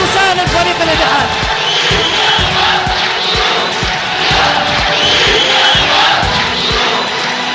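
Al-Ittihad football fans roar in packed stadium stands, standing and chanting in support, a dense, loud, continuous crowd noise with rhythmic claps or drum-like beats throughout.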